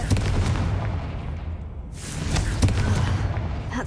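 A Confringo fire spell exploding in the Hogwarts Legacy video game, deep rumbling booms and thuds in a continuous loud barrage, with a sharp blast about midway and heavy low-end rumble throughout.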